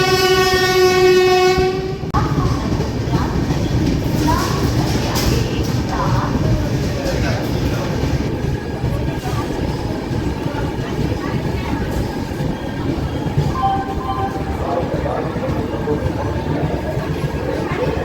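Tirupati to Kakinada Express 17249 with LHB coaches at Tadepalligudem station: a loud horn opens, then a sustained close rumble and clatter of wheels as the train passes, with a shorter horn later and crowd voices underneath.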